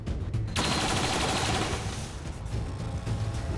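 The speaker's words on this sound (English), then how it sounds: "Incoming fire." Rapid automatic gunfire and dense fusillade bursts from XCOM 2 combat, loud and continuous for the whole stretch with no voices over it.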